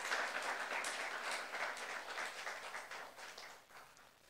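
Congregation applauding during a Saturday youth worship service at a church, an even wash of many hands clapping together for a few seconds, moderately distant and tapering off at the end.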